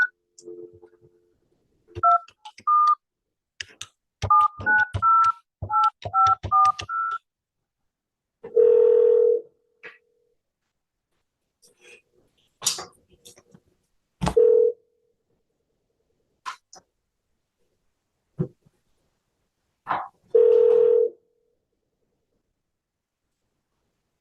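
Telephone keypad touch tones beep in quick irregular bursts, followed by several separate longer steady tones spaced a few seconds apart after the call ends, all clear and close with silence between them.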